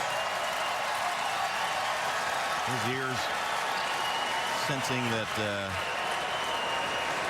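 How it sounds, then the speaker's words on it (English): A large crowd at the 2014 Belmont Stakes horse race roars steadily before the start, a dense, loud wash of cheering and applause lasting throughout, with a voice briefly speaking over it twice. "here's the crowd cheer, and the horses will go into the starting gate"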